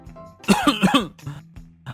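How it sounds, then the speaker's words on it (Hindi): A run of four harsh coughs in quick succession, close by, followed by a couple of softer coughs and throat sounds. "शायद ठंड लगी हो जिससे आपको इतनी ज्यादा खांसी होने लगी है"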